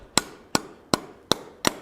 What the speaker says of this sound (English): I'll start hammering that up.